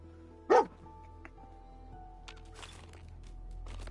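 A single sharp bark from a dog in the Fallout video game rings out loud and close, followed by faint game ambience and scattered clicks over a low steady hum.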